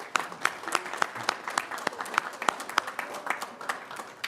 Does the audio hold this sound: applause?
yes